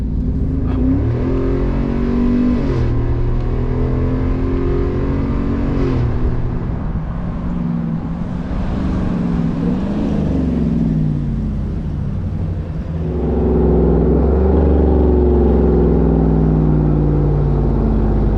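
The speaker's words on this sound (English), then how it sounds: "This exhaust is just absolutely incredible." A Chevrolet Silverado ZR2 pickup with an aftermarket exhaust cruising on a highway, its steady low engine rumble shifting pitch as it accelerates and settles, loud and close throughout with no voices.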